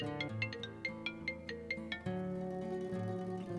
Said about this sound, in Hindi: उसके फोन पर कॉल आया